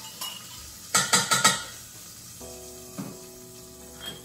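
Minced garlic goes into oil in a pan, marked by a quick run of four clinking, scraping knocks from a utensil against the metal, followed by a couple of fainter taps over a soft, steady background.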